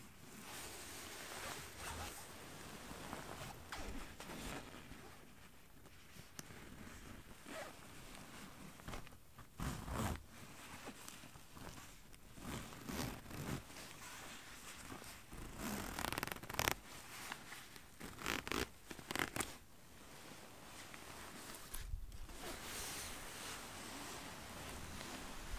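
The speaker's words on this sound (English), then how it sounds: "the front has the zipper and snap button" A jacket's front zipper is worked in a close, quiet setting, giving soft scratchy zips and fabric rustles in irregular bursts across the whole stretch.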